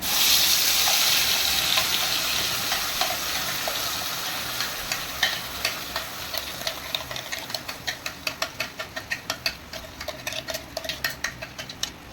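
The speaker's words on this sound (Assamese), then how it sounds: "তেলখিনি গৰম হ'ল তাত মই এই সামগ্ৰীখিনি ঢালি দিম গোটেইখিনি" Spice paste hits hot oil in a kadai with a loud burst of sizzling that slowly settles into steady frying, then a quickening run of metallic spoon clicks against the pan; no voices.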